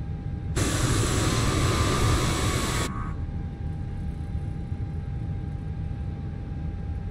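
An Airbus A320 jet engine starts in Microsoft Flight Simulator with the Fenix aircraft: a loud rush of air lasts about two seconds, then cuts away to a steady, quieter whine and hum.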